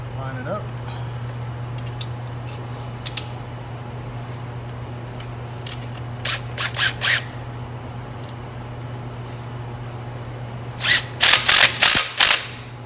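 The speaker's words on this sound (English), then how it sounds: "Tighten down our coupling connector." A ratchet tightens a coupling connector on a shimmering ornament arch, giving short clusters of sharp mechanical clicks close by, a few at first and then a louder rapid run near the end, over a steady low electrical hum.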